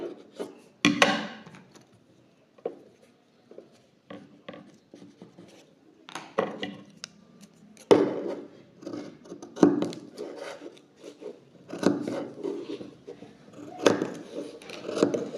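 Scissors cut open a fabric garment at the neckline, with close, intermittent bursts of snipping and scratchy rustling separated by short pauses.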